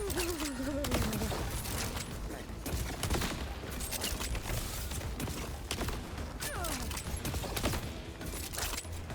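Dense, continuous gunfire from a special weapon in the shooter game Borderlands 4, loud and relentless, with mechanical clatter and creaking effects layered over it for the whole stretch.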